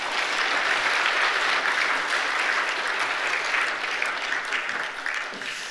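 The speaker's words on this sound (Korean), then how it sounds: "박수로 축하해 주시기 바랍니다." Sustained applause from a church congregation during a worship service, steady and fairly loud throughout, greeting a newly appointed small-group leader.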